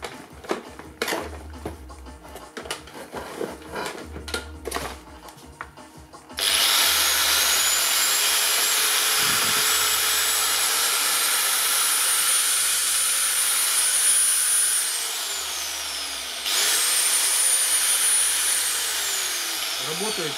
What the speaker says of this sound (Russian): Давайте попробуем данную шлифмашинку запустить, посмотреть, как работает редуктор.